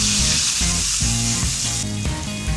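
Garlic, ginger and chili sizzle loudly in olive oil with toasted cumin seeds. The frying hiss is steady, with a few soft stirring bumps and no speech.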